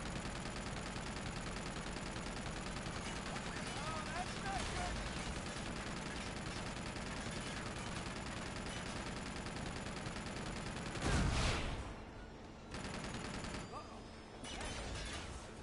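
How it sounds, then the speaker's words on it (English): Gunfire in the PS4 Uncharted Collection release of Uncharted 2: Among Thieves crackles in rapid bursts over a busy, constant game soundscape, with a louder blast near the end before it thins out. "Someone else was shooting me too, though."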